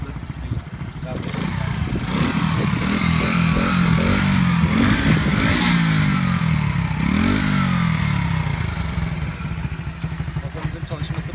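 Small Kuba RX9 50cc motorcycle engine idling and revving up close, loud and steady with rising and falling throttle sweeps over about eleven seconds, with a faint clattery mechanical edge.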